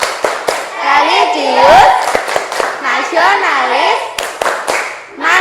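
Primary school children do a rhythmic classroom clapping chant, with sharp, loud claps in a patterned beat between their chanted words, close and energetic.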